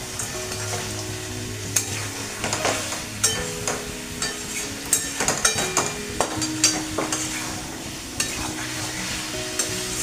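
Potatoes and cauliflower are stirred into a well-fried spice paste sweetened with jaggery in a pan, a spoon scraping and knocking in irregular strokes over a constant close sizzle of frying, with no talk.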